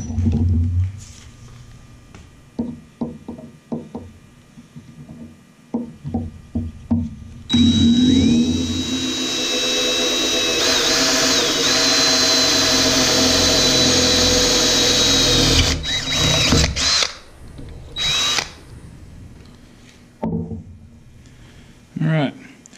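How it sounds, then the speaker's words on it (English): A power drill whines steadily for several seconds at close range, boring a quarter-inch hole in metal with oil on the bit, with scattered clicks and handling noises before and after. "let's drill a hole."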